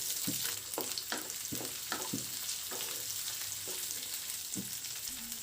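Onions stir-fry in a pan with ginger, garlic and green chilli under a steady sizzle. A spoon scrapes and stirs through it in irregular strokes, fairly close.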